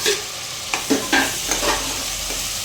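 Onions, tomatoes and green chillies frying in a pan with gongura leaves, a steady close sizzle broken by a few short scraping stirs.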